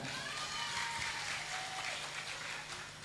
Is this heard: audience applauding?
yes